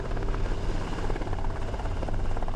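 A helicopter flies in to board a ship, a continuous loud rotor thrum and engine roar that holds steady without a break.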